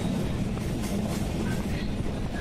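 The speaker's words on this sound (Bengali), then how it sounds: "আমরা ট্রেনটি মোশাগ্রাম জংশনের দিকে যাচ্ছে" A train rolls toward a railway junction, a steady rumbling rail noise filling the short stretch without talk.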